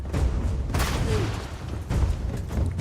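Booming grenade explosion and heavy gunfire in the space-RPG video game Starfield, loud dense blasts and crackling shots rolling continuously, with brief voices mixed in.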